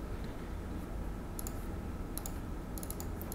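A few faint, quick computer mouse clicks at a desk, brief and light over a quiet background hiss.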